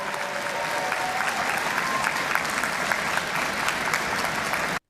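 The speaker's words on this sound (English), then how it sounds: "And everyone claps, like they always do," Sustained applause from delegates at a New Democratic Party convention, a dense, even wash of clapping that holds steady for several seconds and then cuts off abruptly.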